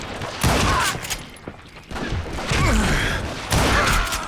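Gunfire from the Western shooter Call of Juarez Gunslinger, loud bursts of shots arriving in several clusters with crashes and mechanical clatter between them.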